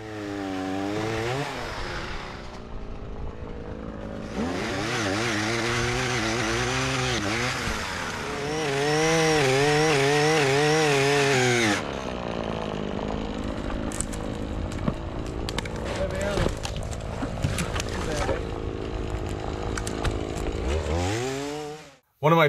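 A Husqvarna MADSAW dielectric pole saw revs up and bites into wood. Its engine climbs and wavers in pitch, then settles into a rougher, steady cutting drone and finally cuts off abruptly.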